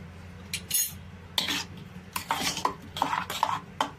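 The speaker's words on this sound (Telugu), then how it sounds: "పచ్చట్లో ఉప్పు సరిపోలేదండి, కొంచెం కలుపుకుంటున్నా." Salt being stirred into sour gongura chutney with a spoon, a series of irregular scraping clinks against the dish, quiet and alone with no voices.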